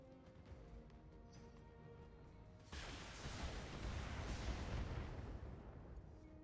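Gunfire and artillery in a video game, a sudden switch from low ambient hum to a dense, sustained rumbling roar of explosions and shots that stays heavy to the end.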